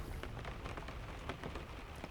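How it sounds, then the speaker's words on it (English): Rain falls in an ocean survival video game, a soft, even patter of drops hitting a surface with no pauses, heard faintly and alone. "It's raining, okay."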